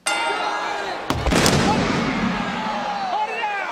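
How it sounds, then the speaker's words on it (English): Pyrotechnics go off in a wrestling arena, with a sharp burst followed by a long crackling, booming roar that continues over a dense, loud crowd background. "Nice fireworks show."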